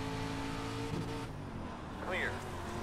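A dirt street stock race car engine droning steadily in iRacing at Williams Grove, a sustained harmonic roar that shifts pitch as it revs, with a brief rising whine near the end.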